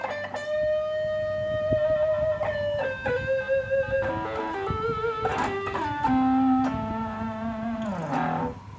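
Overdriven electric guitar through a Flamma FS06 preamp on its Two-Rock amp model plays a lead line of sustained, slightly gritty notes that bend and slide, with no talking.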